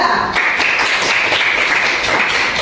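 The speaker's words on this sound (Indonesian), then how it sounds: "beri tepuk tangan untuk kelompok 3" Classmates applaud group 3 in a school lesson, a dense, steady burst of many hands clapping close by that fills the whole stretch without any talk.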